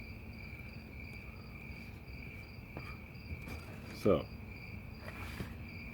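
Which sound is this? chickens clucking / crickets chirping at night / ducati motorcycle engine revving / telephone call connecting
crickets chirping at night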